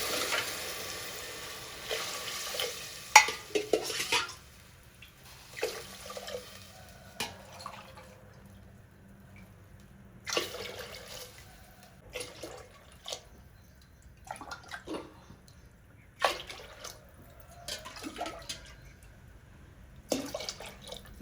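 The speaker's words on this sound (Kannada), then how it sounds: "ಅದಕ್ಕೆ ಒಂದು 7-8 ಗ್ಲಾಸ್ ನೀರು ಹಾಕ್ಕೊತೀನಿ ನಾನು." Glassfuls of water splash into a pot holding rice and moong dal for kichdi, each pour a short splashing burst separated by quiet gaps, repeated about eight times at close range.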